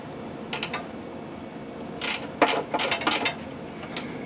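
A half-inch wrench works a bolt loose from the factory baffle on a Ferris FW15 mower, giving a few faint metallic ratcheting clicks in short clusters against a quiet background.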